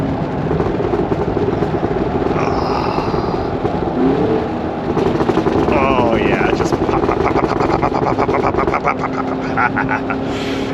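A 2023 Cadillac Escalade V's V8 engine burbles and pops on a downshift, a loud, rough rumble with crackling bursts heard from inside the cabin while someone talks over it.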